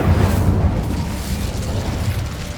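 Incendio fire spell cast in Hogwarts Legacy, heard as a sudden whooshing fiery burst with a low rumble that fades quickly, close and fairly loud.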